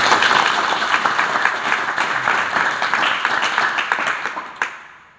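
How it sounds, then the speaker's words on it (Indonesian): A hall full of people claps loudly at a formal gathering, dense applause that holds steady, then thins with a few last claps and fades to quiet. "Tepuk tangan dulu."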